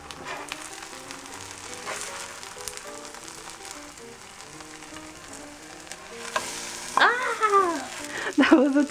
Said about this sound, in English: this is going to cook for about maybe 2 minutes until the bottom is nice and crispy